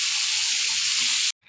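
Shrimp and fish frying in a pan give a loud, close, continuous sizzling hiss that cuts off sharply just before the end, then returns faintly.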